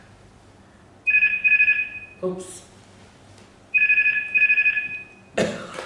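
A telephone ringtone sounds in two bursts of warbling electronic trills separated by a pause, with a brief cough and a short spoken exclamation in between.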